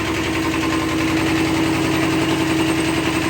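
A Kubota B5001 mini tractor engine idles in frost at about minus ten degrees, a loud, steady, close rumbling drone with an even pulse and no pauses.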